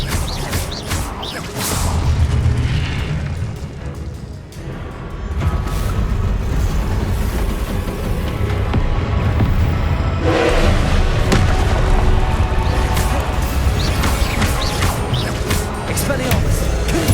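Spell blasts from Confringo and Incendio in Hogwarts Legacy, booming and crackling in rapid succession. The bursts are loud and dense, layered over whooshes and mechanical game effects, and they keep going steadily with no pauses.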